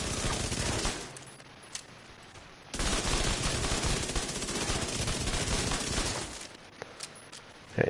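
An MP5 submachine gun in the video game The Division 2 fires two long, rapid automatic bursts, loud and close, separated by a short pause and ending with a few single sharp shots.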